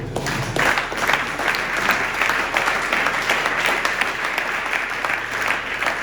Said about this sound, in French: Acclamons fortement.